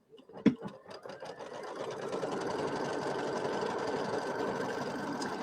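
An embroidery sewing machine stitches a placement line in white thread for a quilted flag block, starting with a few sharp clicks and then settling into a steady, close, continuous mechanical whirr.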